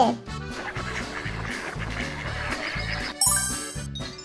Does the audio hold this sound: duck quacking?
yes